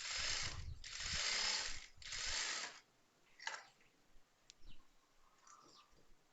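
A sewing machine stitching a seam on a churidar, running in three loud whirring bursts with brief pauses between them, followed by quieter handling clicks and faint background sounds.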